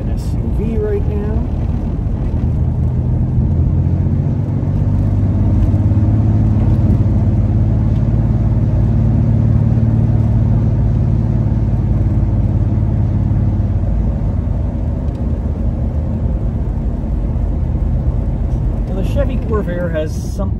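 Steady engine rumble from inside a moving Chevrolet Corvair, a low drone with road noise, occasionally swelling slightly as it drives along behind an SUV.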